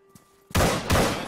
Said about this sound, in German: Habt ihr gerade geschossen?